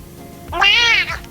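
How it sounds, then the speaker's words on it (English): A cat in Powerwash Simulator gives a single clear, loud meow, rising then falling over about half a second, with a quiet game background before and after. "Cat actually scared me a little bit."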